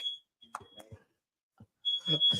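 Room alarm giving a high, steady electronic tone, brief at the start and returning near the end beneath people talking.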